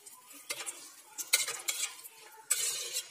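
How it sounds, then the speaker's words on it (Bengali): Whole spices, bay leaf, green cardamom, cinnamon and a dried red chilli, fry in hot oil for tempering, with soft sizzling broken by a few sharp scrapes and clinks of a spoon against the pan. "এবার আমি একে একে ফোড়ন দিয়ে দেব।"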